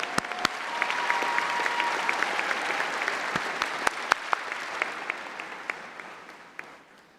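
A large commencement crowd at a high school graduation claps for the senior chorale, a steady wash of applause with a few sharp, close claps standing out, gradually thinning toward the end.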